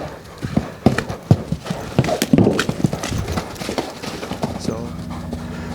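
Untrained Arabian stallion running loose nearby, irregular hoofbeats thudding and clopping on the ground, with a whinny partway through and someone talking over it.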